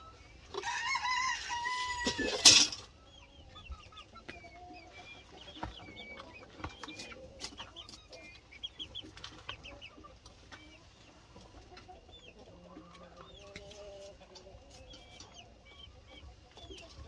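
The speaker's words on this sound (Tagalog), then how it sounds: "so now they are eating the chicken feeds that I was putting inside in the chicken feeder." Chickens on a farm cluck and chatter steadily while pecking feed from a chicken feeder, with one loud crow near the start, then softer scattered clucks and peeps throughout.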